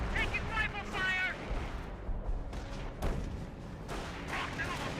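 Rifle fire crackles in the Company of Heroes video game as bursts of gunfire and booming battle noise pile up, continuous and dense, with voices mixed into the din.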